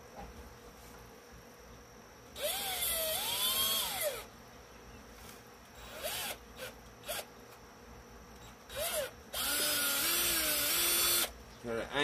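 A power drill bores a hole during a speaker grill replacement, whining in bursts that rise and fall in pitch, with a long stretch, several short pulses and a final sustained run, close and fairly loud.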